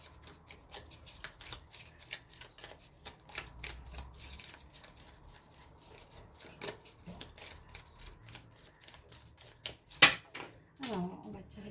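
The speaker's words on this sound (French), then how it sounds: "Alors, on va tirer 3 cartes." Lenormand cards shuffled for a reading, giving a steady run of soft riffling and flicking taps across the whole stretch, with a sharper snap near the end, close and fairly quiet.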